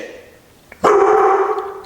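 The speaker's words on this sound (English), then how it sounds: "He barks and he complains and he belly aches till he gets fed." A hungry dog waiting for its evening feeding lets out one loud, close bark that trails into a drawn-out whining howl after a short quiet stretch.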